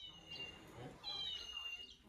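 Cat meowing inside a family home, two short high-pitched mews close by, with people talking faintly in the background.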